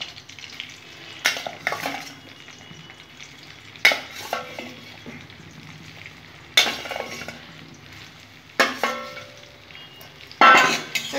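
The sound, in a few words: vegetables being lightly fried in a pan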